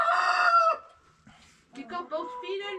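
Chickens in a dim home chicken coop, a loud rooster-like crow or squawk up front, then a pause and a run of clucking and bird calls closer by.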